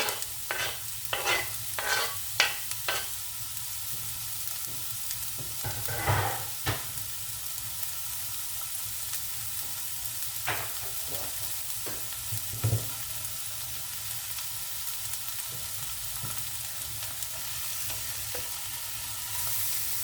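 Onions and celery sizzle steadily in a pan sprayed with olive oil, with a scatter of sharp scraping stirs near the start and a few more knocks and clicks later, all close and without talk.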